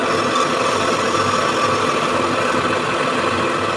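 A metal lathe faces the end of a clamped hexagonal steel bar, giving a steady, loud, continuous machining drone with a whirring mechanical hum and no pauses or speech.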